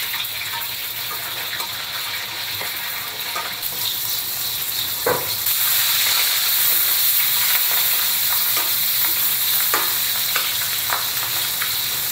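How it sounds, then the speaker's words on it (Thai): Sugar syrup simmering in a pan while being thickened for a Thai dressing gives a continuous bubbling hiss, growing louder and denser midway, with a few faint clinks. "เราตั้งให้ตัวน้ำเชื่อมนะคะ มีความแบบข้นขึ้นนิดนึงนะคะ ให้เดือดนิดนึง"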